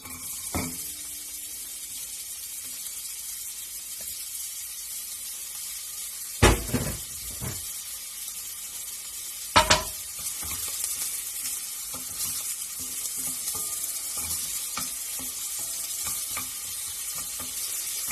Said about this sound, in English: Adding the onions.